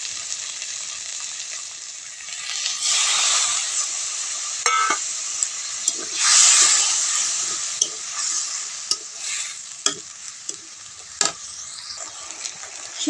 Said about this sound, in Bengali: লবণ, লবণ হলুদ দিয়ে মশলাটা আমি ভালো করে কষিয়ে নেব